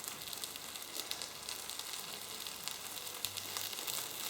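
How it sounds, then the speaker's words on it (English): A buttered cheese sandwich sizzles steadily in a frying pan, a close, continuous crackling hiss with small pops throughout and no talking. "Whoa, that sizzle sounds good."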